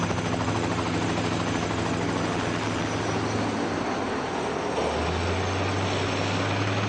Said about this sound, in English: It's dangerous for the helicopters because they are carrying, number one, they are carrying a load.